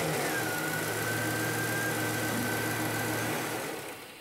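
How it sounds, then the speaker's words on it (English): A truck engine idling steadily after being cranked during a fuel pressure check, a low even rumble with a thin whine over it that fades slightly at the end. "So if we crank up the truck,"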